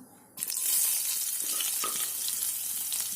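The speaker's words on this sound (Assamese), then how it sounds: "তেল গৰম হোৱাত মই ইয়াত দিম পিঁয়াজটো মই অকণমান সৰুকৈ কাটি লৈছোঁ" Small-chopped onion dropped into hot oil in a home kitchen, bursting into a loud, steady sizzle that holds for several seconds after a quiet start.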